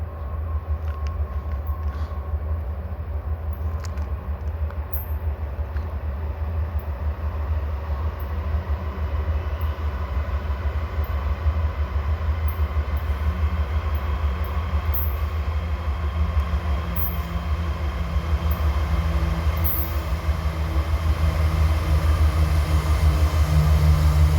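BNSF freight train slowing toward a stop, giving a steady, close, heavy low rumble of rolling rail cars that grows slightly louder over the stretch, with no voices.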